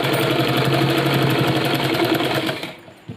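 A sewing machine runs a pant seam in one continuous, loud, close whirring burst of rapid needle strokes, then winds down and stops near the end with no voices.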